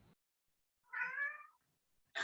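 A single short cat meow, clear and fairly close, rising out of near silence during a quiet indoor meeting.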